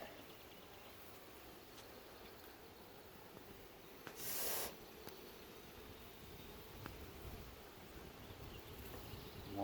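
Honeybees hum faintly and steadily during a full hive inspection and mite check among frames heavy with nectar, with one brief louder hiss midway.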